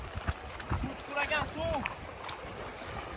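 An electric scooter, an L9, rides through water: splashing and churning swirls under a windy, gravelly rumble, with voices talking over it.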